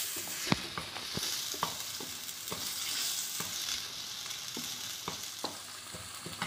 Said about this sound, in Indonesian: Masak sebentar sekitar 3 menit sambil diaduk supaya tidak gosong ya.